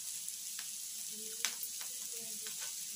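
Tamarind leaf curry fries in a pan with a faint, even sizzle and a few light stirring ticks. The sound is quiet and continuous, with no voices.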